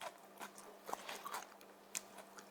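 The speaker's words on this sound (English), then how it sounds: "Now try the snow pea. Very crisp." Crisp stir-fried snow peas being bitten and chewed close up, with a few quiet crunchy bites and soft mastication spread over a short stretch.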